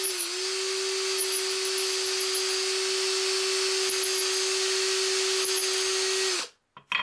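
A lathe-style neck turning tool cuts a .284 Shehane rifle case neck at the shoulder, a steady high whirring hum with a constant tone for about six seconds before spinning down and stopping.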